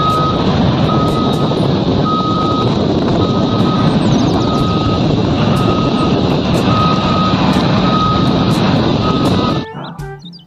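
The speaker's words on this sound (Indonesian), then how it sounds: "Yang ini ada mobil truk tambang." A toy mining truck gives off a steady series of loud, evenly spaced reversing beeps over a constant, noisy motor drone, and both stop abruptly near the end.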